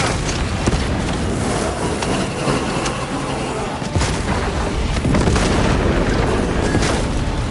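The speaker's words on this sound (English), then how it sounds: "Frag grenade" Frag grenade blasts in the Space Marine video game, heavy booming detonations rumbling through a dense, loud wash of battle noise, with a fresh burst swelling in near the end.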